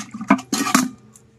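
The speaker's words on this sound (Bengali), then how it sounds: "এখন মাছ কিন্তু ধুয়ে পরিষ্কার করব" Water splashes and sloshes in short irregular bursts as cut fish is washed clean at home, close and fairly loud, with no talking.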